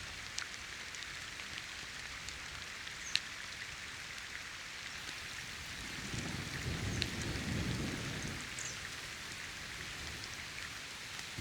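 Steady rain hisses over an overnight campsite, soft and even, with scattered drips and a low rumble swelling briefly near the middle. No one speaks.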